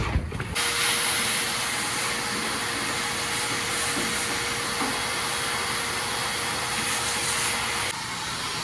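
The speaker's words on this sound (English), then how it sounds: "I think I'm gonna break out the old vacuum cleaner and get some of this dust off." A vacuum cleaner roars steadily at close range in a garage, sucking dust off a 1979 Volare wagon, with a constant whine, running for several seconds before cutting off near the end.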